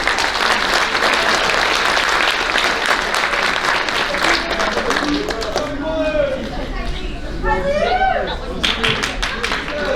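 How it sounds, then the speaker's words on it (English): Audience applause fills a banquet hall at a high school athletic banquet, steady dense clapping for several seconds that thins toward the end amid murmured voices. "Let's give these Mule Makers one more round of applause."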